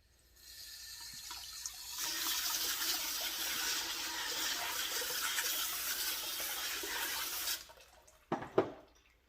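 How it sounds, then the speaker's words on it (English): Running water pours for about six seconds over tumbled jasper, agate, Botswana agate and petrified wood rocks in a strainer. The rush is steady and close, then it stops and a brief clatter of rocks follows. "Rinse that off on the next strainer."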